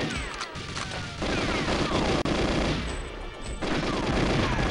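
Dense gunfire from the N64 game GoldenEye, rapid automatic bursts and loud repeated shots filling the whole stretch with almost no pause, close and harsh.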